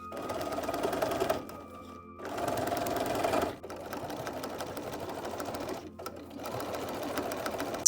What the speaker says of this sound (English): Stitch along the pressed edge all the way down.